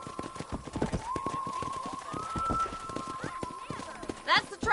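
Rapid, steady clip-clop of horse hooves at a gallop in Red Dead Redemption, close and continuous, with a brief whinny-like burst near the end and a sustained tone underneath.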